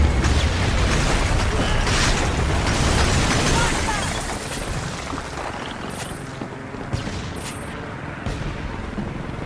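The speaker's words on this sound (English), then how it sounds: "Carpet bomb launch." Carpet bombing in the Homefront war game, a dense, loud rumble of overlapping explosions and gunfire that eases after a few seconds into a lower sustained roar with a few sharp cracks.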